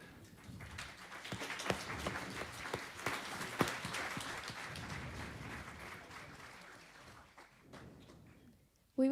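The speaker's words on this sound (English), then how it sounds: "So a round of applause for." Applause from a gathered crowd at a Sikh New Year's celebration, rising and then fading over several seconds at a moderate distance, with faint murmuring underneath.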